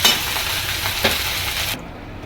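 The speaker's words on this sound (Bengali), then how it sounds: "এবার আমি মিলিয়ে দিচ্ছি" Jeera rice is stirred in a hot pan, giving a continuous close sizzle with soft scraping strokes. The sound cuts off sharply near the end, leaving a quieter hiss.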